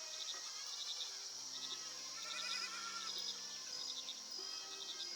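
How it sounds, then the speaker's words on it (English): Goats bleating in the Viking settlement game Land of the Vikings, short repeated bleats with a steady insect-like trill and soft ambient tones underneath, fairly quiet and with no talking. "Right, let's get some goats."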